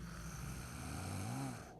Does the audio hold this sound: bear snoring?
yes